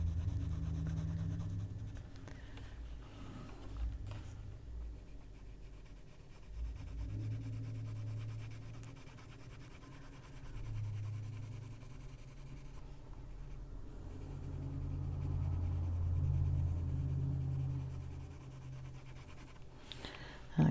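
Arteza and Castle Art colored pencil shades on paper in soft, continuous scratchy strokes. The rubbing swells and fades in slow waves, fairly quiet and close, with no talking.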